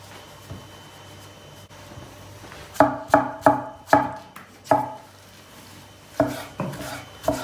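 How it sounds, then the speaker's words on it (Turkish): A knife chops garlic cloves on a cutting board for a Turkish eggplant dish, giving a run of about eight sharp, close taps in two bursts with brief pauses. "Tabandan lezzet versin diye içine biraz da sarımsak doğrayacağız."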